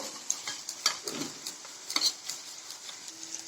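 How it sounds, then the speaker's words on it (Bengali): Turmeric powder and spices being stirred in a frying pan for a vegetarian ridge gourd pasta, a soft steady sizzle under scraping spoon strokes, quiet and close with small clinks. "এবার হলুদের গুঁড়ো দিয়ে দিচ্ছি এবার ভালো করে মিক্সড করে নিয়ে ছেড়ে দিব"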